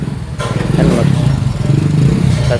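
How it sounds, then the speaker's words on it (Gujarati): A new Honda Activa scooter's engine runs nearby, a loud steady putter that holds for a couple of seconds while people talk over it. "આપણે લાયા નવી નવી એક્ટિવા"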